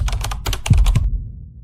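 Rapid typing on a computer keyboard, close and crisp, with a quick burst of clattering keystrokes and a couple of heavier thunks before it stops abruptly.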